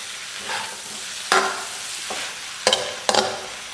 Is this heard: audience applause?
no